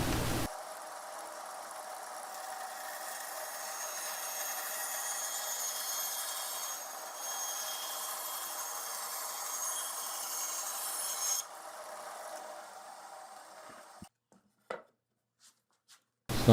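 A table saw cuts angles in wood for a frame, a long steady whine at moderate level running for about eleven seconds, then winding down into quiet with a few faint knocks.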